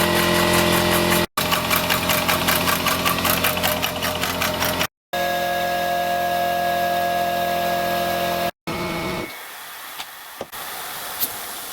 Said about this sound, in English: just going to let it run and pump into the boiler for 1 minute